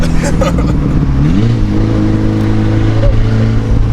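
A straight-piped VW GTI with a 3-inch downpipe roars loudly up close, its engine note climbing as it revs hard and then holding a harsh, droning exhaust tone.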